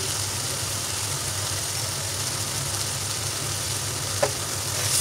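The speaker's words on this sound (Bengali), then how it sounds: "এই তো মশলা কষিয়ে নিচ্ছি, খুব সুন্দর করে মশলা কষাতে হবে" Spices sizzle steadily in a pan as they are fried down for a restaurant-style chicken curry, giving a continuous close hiss with one small clink near the end.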